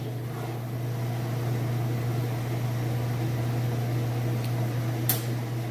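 An Amana washing machine spinning fast during a test run, a steady close mechanical hum with a strong low drone throughout and a faint click near the end, no voices.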